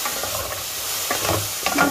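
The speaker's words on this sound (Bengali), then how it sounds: "এখন আমি বেশি করে রসুন দিয়ে দিলাম, রসুনের সাথে এইভাবেই ভেজে নিব।" Chopped garlic sizzles in a hot pan with fried cauliflower, a close, hissing fry broken by scraping stirs and clinks near the end, with no talk.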